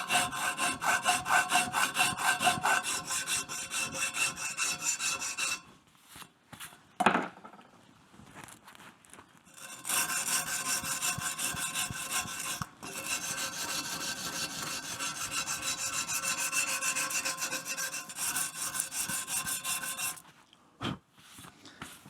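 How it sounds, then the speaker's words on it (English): A steel motorcycle header pipe being hand filed in a workshop: long runs of close, rhythmic rasping strokes, with a brief pause and a couple of sharp knocks partway through. "I'm doing a little bit of filing now just to show you this process"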